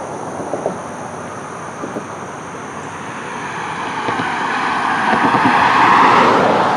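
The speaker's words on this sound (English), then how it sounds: "just how loud it is when these cars come by" Loud traffic roar as cars pass close by on Palmetto Commerce Boulevard, the rushing noise building steadily toward the end, with no talk.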